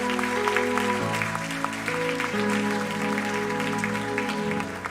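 Congregation applauding in a church service, a sustained even patter of many hands over held musical tones from an instrument playing underneath.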